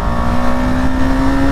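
A 2022 BS6 KTM Duke 250 motorcycle engine revs steadily on throttle, a loud, close, continuous buzzing tone with a slowly rising pitch and no talking.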